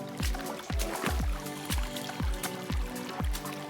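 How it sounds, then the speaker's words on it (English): Footsteps sloshing and splashing through a shallow creek on a wilderness backpacking trail, a steady rhythm of heavy wading strides with water churning close by throughout. "Creek hiking."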